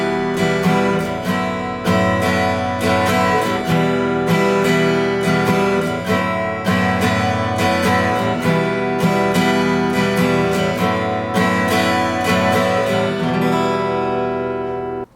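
An acoustic guitar repeats a two-chord strumming pattern over and over, with even, rhythmic down and up strokes ringing loud and close without any voice over them.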